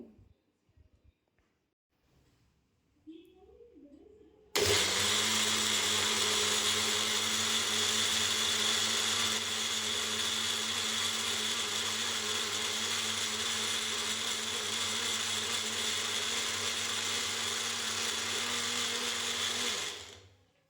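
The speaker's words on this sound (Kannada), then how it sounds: "ಇವಾಗ ಕ್ಯಾಪ್ ಕ್ಲೋಸ್ ಮಾಡಿ ರುಬ್ಕೋತಾ ಇದ್ದೀನಿ" Mixer grinder blending palak with green chillies and a little water runs loud and steady for about fifteen seconds with its lid closed, then winds down; faint handling noises come before it starts.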